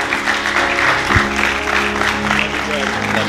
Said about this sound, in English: If everyone would give him a clap.